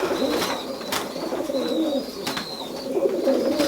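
Tippler pigeons coo in soft, rolling repeated calls close by, with a few sharp clicks and faint chirps in the background.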